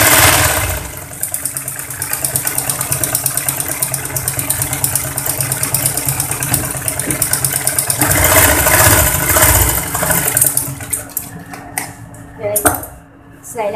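Sewing machine running a double line of stitching along a seam of a woman's pajama pants, a steady continuous mechanical whir close by with brief pauses and clatter near the end.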